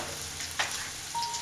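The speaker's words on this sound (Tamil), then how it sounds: "இது நல்லா வதக்கணும்" Grated raw mango and turmeric sautéing in a pan for mango rice: a steady close sizzle with a single stirring scrape partway through, heard alone.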